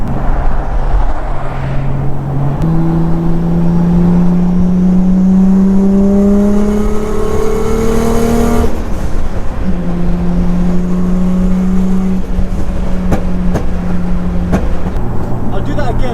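A 700bhp rear-wheel-drive Nissan Skyline R33 on winter tyres pulls hard through fourth gear on a street, its engine note climbing steadily, dropping briefly at a shift-like break, then rising again, loud and close throughout with a voice talking over it.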